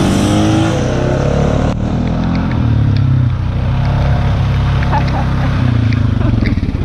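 An off-road vehicle's engine revs hard and loud at close range, a sustained throaty roar that dips and surges as the throttle opens at an adventure park, with faint voices underneath.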